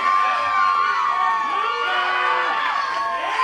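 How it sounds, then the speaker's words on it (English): A crowd at a live professional wrestling event cheers and screams loudly and continuously, with shouting voices rising and falling together throughout. "And the crowd goes, whoa!"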